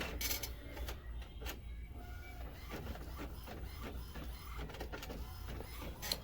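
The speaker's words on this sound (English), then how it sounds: "Okay, there it goes. It's printing already." Printer running a sublimation transfer job, a quiet mechanical whir with repeated clicks and shuttling passes of the print head, steady and continuous with no talk.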